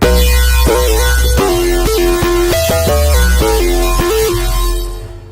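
Sylenth synthesizer mono legato patch playing a gliding lead melody over a dense bright pad and bass, loud and continuous for about five seconds before fading at the end.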